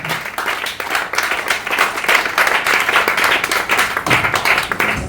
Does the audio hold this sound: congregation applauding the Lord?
yes